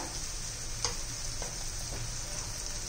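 Spices, including turmeric and coriander powder, sauté in hot oil for a bitter gourd dish, giving a steady, faint sizzle with a few small taps.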